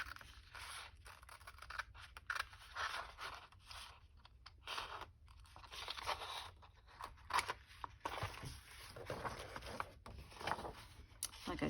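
Scissors cut through a 12-inch sheet of craft paper for a gift bag, a close series of crisp snipping and slicing crunches in uneven bursts with short pauses.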